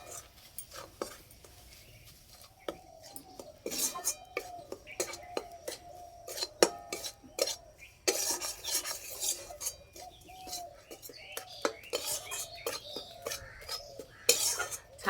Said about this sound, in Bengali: অল্প অল্প দেবো, মেশাতে থাকবো।